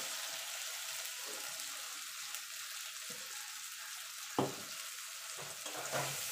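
Mustard paste stirred into tilapia and eggplant frying in oil, a steady soft sizzle with a few scraping stirs of the spoon near the end, no talking.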